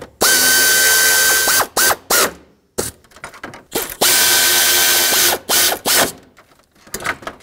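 A hand ratchet tightens 10mm bolts on the AC condenser of a 2013-2020 Nissan Pathfinder, loud close rapid clicking strokes in several bursts with short pauses between.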